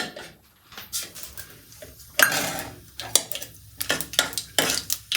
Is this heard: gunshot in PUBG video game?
no